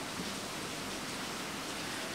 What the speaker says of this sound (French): derrière moi il pleut des cordes et des cordes